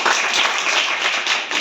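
Schoolchildren clap together in a classroom, a brief, busy burst of many hands in a loose, uneven rhythm.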